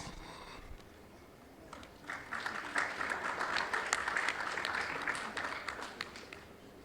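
Audience applause at a scientific forum on health financing, starting quietly and swelling into steady, dense clapping from a crowd in a hall that holds to the end.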